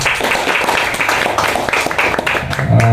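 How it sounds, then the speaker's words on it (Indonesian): Steady applause rises from an audience at a Catholic youth organization gathering in NTT, Indonesia: dense, loud clapping throughout, with a brief tonal sound near the end. "Tepuk tangan dulu ya"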